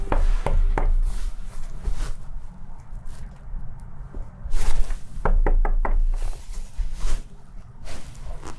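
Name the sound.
knocking on a door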